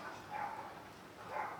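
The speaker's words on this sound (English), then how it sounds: "I hope you guys can hear these dogs barking." Dogs bark faintly in the distance, two short muffled bursts over a quiet, noisy background.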